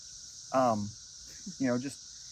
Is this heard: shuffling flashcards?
no